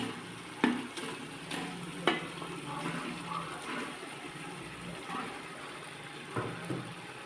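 Chicken sizzles and fries in masala for biryani, a steady low hiss with a few sharp scraping knocks from stirring, moderately faint and close.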